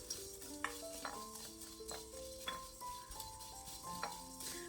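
Dry puffed rice tossed and stirred in a kadai with no oil, giving a run of scraping, rustling strokes and light knocks at an uneven rhythm, with steady background music underneath.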